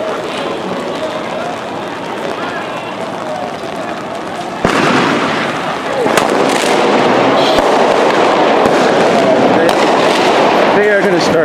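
Flash-bang grenades and pepper balls fired by police at a George Floyd protest in Seattle: loud crowd noise with sudden sharp bangs and pops, a heavy burst midway, then continuous chaotic blasts and shouting under people talking.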